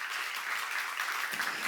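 A church seminar audience applauds, a dense and even patter of many hands that lasts the whole brief moment.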